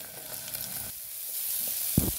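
Coarsely ground peas for a homemade samosa filling hit hot tempering in a pan, a soft sizzle with a sharper burst near the end, close by and without voices.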